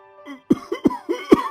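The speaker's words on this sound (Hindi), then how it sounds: "बहुत जोरों से खांसी हो रही थी" A man coughs hard, giving a quick run of four or five harsh, throaty coughs close up, loud and alone without speech.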